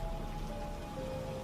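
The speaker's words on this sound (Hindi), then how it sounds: "टपकती बारिश की आवाज" Rain dripping and pattering in a muddy spot at night, a steady soft wash of drops, faint and continuous with no voices.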